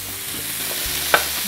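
Broccoli beef sizzling as it is stir-fried in a pan, a steady broad hiss with soft scraping stirs and one sharp clack of utensil on pan near the end, close and alone.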